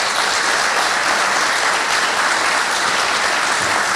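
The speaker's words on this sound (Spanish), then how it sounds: "a quien tributamos también un fuerte aplauso." An audience applauds at a book presentation in Peru with loud, continuous, dense clapping from a crowd that fills the whole four seconds without letting up.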